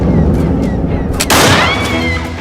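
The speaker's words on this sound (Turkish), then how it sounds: "Silah sesi miydi o?" A single loud, sharp gunshot bursts out near the middle, its blast echoing and decaying over the following second, with a quieter background before it.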